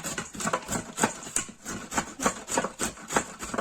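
Parsley root being rubbed across a kitchen grater, a steady series of about a dozen rhythmic rasping strokes, close and fairly loud, with no talking.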